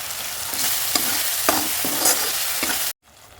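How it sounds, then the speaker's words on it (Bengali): Spices and salt for doi katla sauté in a pan with a steady, close sizzle broken by several spatula scrapes and knocks, then cut off abruptly near the end, with no talk. "এবার আমি গ্যাসের ফ্লেমটাকে কমিয়ে এটা ভালো করে কষাবো"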